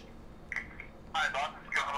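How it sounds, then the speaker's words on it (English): A phone call on speakerphone sounds a short electronic tone, then a ringing burst and another ring start, thin and slightly distant, with a voice heard briefly. "We'll get him on speakerphone. Okay. We'll prank call him."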